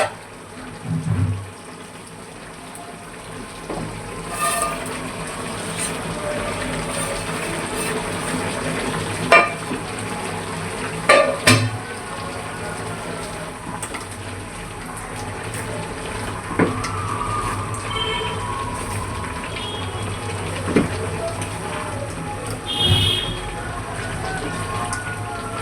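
Fish dropped into a hot pan of oil for a Bengali home-cooked lunch, frying with a steady sizzle broken by occasional scraping and stirring clatter, with a voice faintly in the background.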